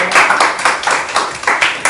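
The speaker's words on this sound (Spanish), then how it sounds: "aplauso" Students applauding in a math classroom, a short burst of rhythmic, fairly close clapping with distinct repeated hand strikes, a few people clapping in loose unison.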